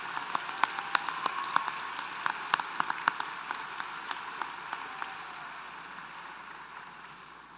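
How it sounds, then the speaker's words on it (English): A crowd at a University of Maine graduate commencement ceremony claps for new MBA graduates, a thin, steady patter of many hands with a few sharper close claps, fading gradually toward the end with no talking. "Let's have a round of applause for all those students receiving their MBAs"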